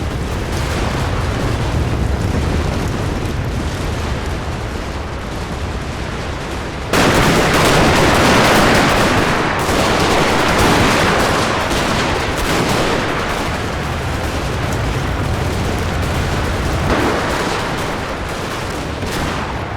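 Continuous battle din of firearms and cannon fire in a Total War game battle between Zulus and Boers at Blood River, dense overlapping volleys and booms that swell sharply partway through and roll on without pause.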